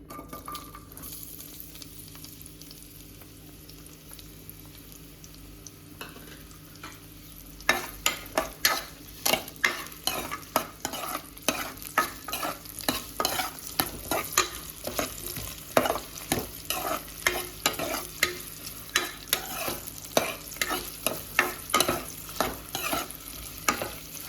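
Onions fry toward golden brown for pulao, a low sizzle at first that turns into loud, rhythmic scraping and stirring against the pan, repeated strokes continuing steadily to the end.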